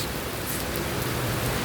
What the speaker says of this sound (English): it's raining really, really hard